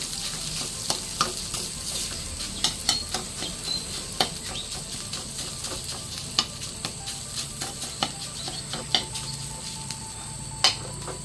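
Chili is stir-fried in a pan until fragrant, a steady hiss of sizzling broken by regular clinks and scrapes of a utensil against the pan.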